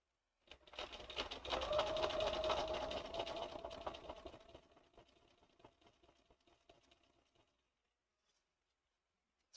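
A sewing machine stitching a photo onto a quilt runs in a quick, rattling burst that rises, holds, then slows and fades out into silence.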